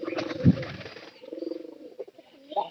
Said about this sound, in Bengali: মানে কবুতর থাকলেই কবুতরের ডাক বাড়বে বেশি